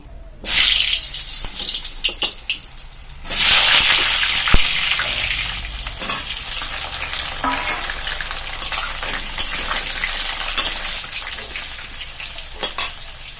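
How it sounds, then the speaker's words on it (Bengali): Cut potatoes hit hot mustard oil in a kadai with a loud burst of sizzling, followed by a second surge and then steady frying crackle with occasional utensil clinks. "তেল গরম হয়ে গেছে, এবার কেটে রাখা আলুগুলো লাল লাল করে ভেজে নেব।"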